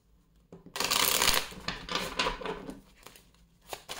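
Mirror oracle cards are shuffled by hand close up, with a dense papery riffle that swells, then breaks into a few shorter flicks and taps before trailing off.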